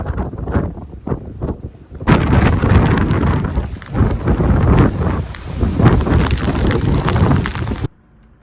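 Strong winter wind on the Llangollen Canal, heading back to a narrowboat, roars and buffets the microphone, loud and gusting, after a few irregular thumps at the start, then cuts off abruptly.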